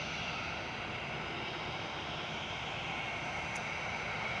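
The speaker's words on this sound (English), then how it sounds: "Lufthansa with the Star Alliance livery, flight 2507, heading back to Munich. This is the AIZN, an A320 Classic." A Lufthansa Airbus A320 Classic in Star Alliance livery departs Manchester Airport, its steady jet roar filling the air at a fairly even level throughout, broad and continuous with no voices.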